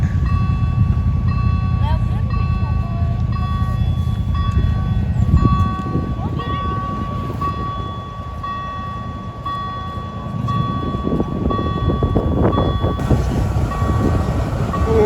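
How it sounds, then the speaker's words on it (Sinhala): A steam train on the line to Oybin near Zittau rolls past, a steady loud rumble with clattering wheels lasting throughout, with a voice talking over it. "ඒ කාසල් එක යන ට්‍රේන් එක දුම්කෝච්චියක්."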